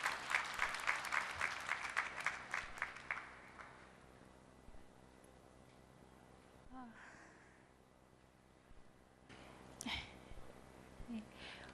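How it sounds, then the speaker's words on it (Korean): Audience in a hall applauding at a university graduation ceremony, a burst of many hands clapping that fades out after a few seconds, followed by quiet room tone with faint rustles and shuffling. "여러분들 다시 한번 박수로 환영해 주시기 바랍니다"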